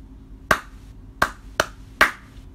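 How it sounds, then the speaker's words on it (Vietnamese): A music teacher taps out a rhythm pattern in a primary-school lesson: four sharp, dry claps or taps with uneven spacing, close and clear against a quiet room, with no talking. "Các em cố gắng nghe thầy gõ tiết tấu và đọc theo."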